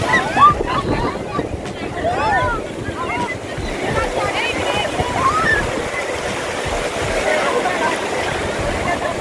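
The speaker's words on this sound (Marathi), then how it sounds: "समुद्र चांगलाच खवळलेला आहे" Rough, churning sea surf rolls and crashes continuously, with steady wind buffeting the microphone and a broad roar that never lets up.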